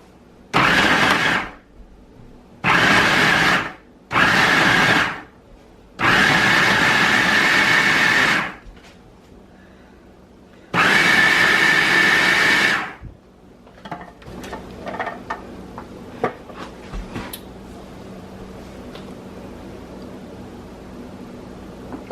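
A food processor pulses butter and flour into coarse crumbs in five loud, separate motor bursts of one to two seconds each. Quieter clinks and handling noises follow.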